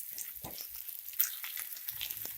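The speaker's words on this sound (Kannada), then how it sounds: "ಈರುಳ್ಳಿ ಸ್ವಲ್ಪ ಕಲರ್ ಚೇಂಜ್ ಆಗಿದೆ, ಅಲ್ಲಿ ಗಂಟ ಫ್ರೈ ಮಾಡಿದ್ದೀನಿ" Chopped onions fry in a hot pan, giving a steady crackling sizzle with small pops and scattered higher spits throughout, close and moderately loud with no one talking.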